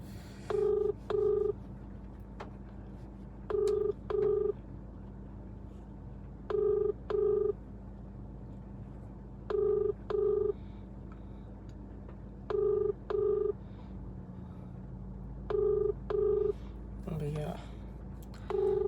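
An outgoing phone call rings back unanswered, with evenly spaced double-pulse tones repeating about every three seconds, clear and steady, and a brief voice near the end.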